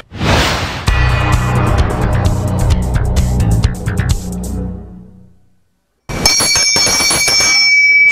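A bell rings out with a bright metallic tone, fades to silence, then rings again loudly with sharp repeated strikes.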